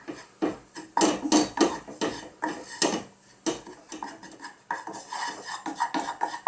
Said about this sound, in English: So let's just do this and keep stirring this all the time.